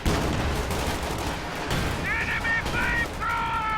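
Gunfire in a tank battle video game, a steady dense roar of shooting and rumbling under loud continuous noise, with a few brief honking tones near the end.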